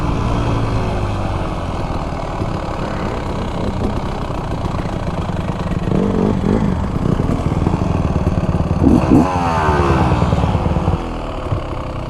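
A 2024 Beta Xtrainer dirt bike engine runs continuously and loudly during a break-in ride, with a steady drone that rises and falls slightly as the throttle changes.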